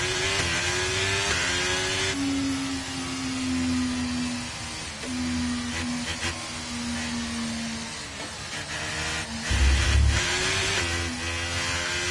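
An F1 car engine in F1 23 at Jeddah climbs through its gears with a loud, high whine that rises in steps. Each upshift drops the pitch, and a heavier rev burst comes near the end.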